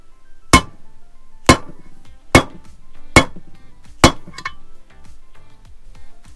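Five sharp, ringing metallic hammer blows at a steady pace, driving a bearing into the engine case of a Suzuki RM85 during a rebuild, each strike loud and close with a brief ringing tail, then quieter taps.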